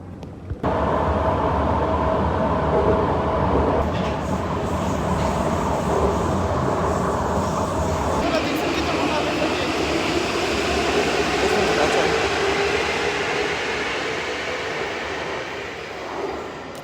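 A Prague metro train runs with a loud, steady rolling rumble and rising whine of motors, wheels rattling on the rails throughout, close by, before the noise eases toward the end.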